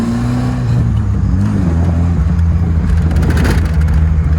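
1982 Fiat Spider 2000 Abarth engine dropping from third to second gear, a loud close drone whose pitch shifts and rises as revs change, with steady road and wind noise and no talk.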